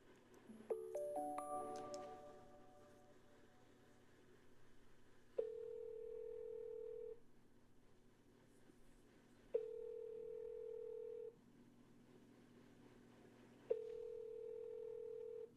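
Three identical steady beeps from a phone voicemail system mark the recording prompt, each lasting nearly two seconds, spaced about four seconds apart, following an opening flurry of dialing chirps and ringing tones.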